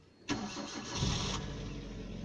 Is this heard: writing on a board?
no